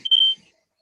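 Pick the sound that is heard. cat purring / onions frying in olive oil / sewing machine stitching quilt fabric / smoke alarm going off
smoke alarm going off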